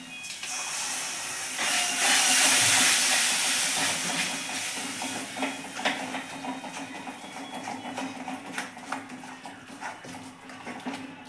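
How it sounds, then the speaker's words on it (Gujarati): Tomato fries in oil with spices, gram flour and onion in a pan, making a loud, hissing sizzle that swells early then settles into a steadier crackle with small pops, no talk. "હવે આપણે ટામેટાને થોડીવાર શેકાવા દઈશું"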